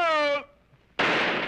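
A loud, sudden burst of broadband noise that bangs in after a brief near-silence and holds for about half a second, following a sustained tone, like a car tire blowing out.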